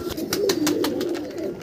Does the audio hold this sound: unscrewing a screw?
no